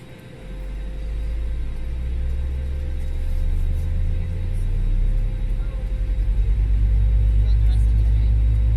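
Airbus A320neo engines spooling up at startup in a flight simulator, a deep, steady rumble that builds and grows louder over several seconds, with a faint constant tone above it.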